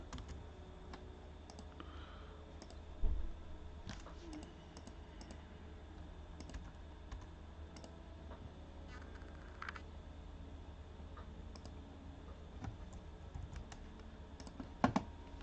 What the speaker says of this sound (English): Sorry, I've got a terrible keyboard.